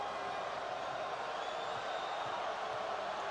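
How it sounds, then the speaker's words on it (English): A packed basketball arena crowd roaring in a steady, dense wash of cheering and noise, continuous and loud without breaks, with no distinct voices standing out. "Listen to this crowd."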